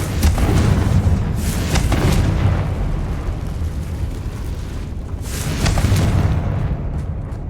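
Fiery spell blasts in the video game Hogwarts Legacy, two booming bursts with crackling debris, loud and close, separated by a lower rumbling stretch.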